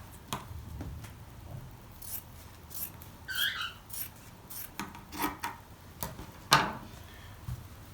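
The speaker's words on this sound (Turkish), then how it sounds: "Şu kenarlarını da şöyle kesiyorum." Scissors cutting the edges of fabric for a fringed bolero, heard as scattered close snips and rasping slides of the blades through cloth, with soft handling rustles in between.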